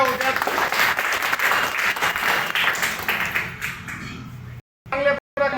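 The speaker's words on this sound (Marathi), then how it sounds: "त्यांच्यासाठी पण टाळ्या होत्या." Applause for branch owners being honoured at a restaurant event, a crowd clapping in a sustained burst that fades out, with voices mixed in beneath it.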